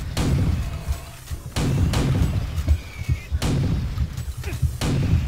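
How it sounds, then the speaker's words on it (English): Shotgun blasts in Doom 3, played as a co-op mod, land as several heavy booming shots in an irregular rhythm over a dense, loud game soundscape, with a little talk mixed in. "Oh, I'm loving the shotgun."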